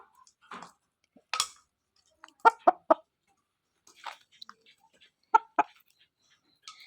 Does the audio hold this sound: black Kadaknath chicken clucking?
yes